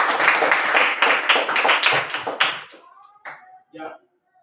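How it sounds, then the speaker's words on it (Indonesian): An audience at a school academic supervision session claps hands together in a dense, fast burst that lasts a couple of seconds, then thins to a few scattered claps and brief voices before fading out. "Kita tepuk tangan dulu buat Wai."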